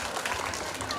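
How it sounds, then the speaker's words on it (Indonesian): Crowd applause at a political party gathering in Pematangsiantar, a dense, steady burst of clapping that fills the moment with a faint voice mixed in. "sekali lagi tepuk tangan"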